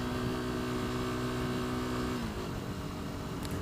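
A KTM RC390 motorcycle engine pulls hard in second gear around 50 km/h, its steady loud drone climbing in pitch before a brief dip as the revs shift, with wind rush throughout.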